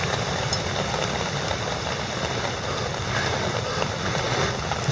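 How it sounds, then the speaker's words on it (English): Air being blown steadily onto a dying outdoor campfire makes a continuous close rush of breathy wind noise that stays at an even level throughout. "Just blowing a bit of air on the fire."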